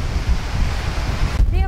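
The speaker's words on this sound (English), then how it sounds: "it is so windy right now." Strong outdoor wind gusts roar and buffet the microphone in a steady low rumble, loud and continuous, with a brief lull near the end.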